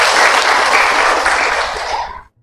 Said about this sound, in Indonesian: Tepuk tangan buat dia itu.